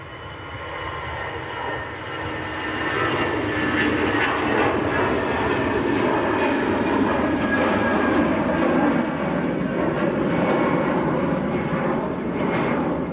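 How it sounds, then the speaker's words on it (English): An EasyJet airliner bound for Amsterdam at Manchester Airport, a loud steady engine roar that swells over the first few seconds and holds, heard from a distance outdoors. "That was the EasyJet to Amsterdam."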